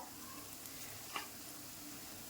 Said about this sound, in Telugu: కొద్దిగా అంత పసుపు నూనెలో వేయించుకున్న తర్వాత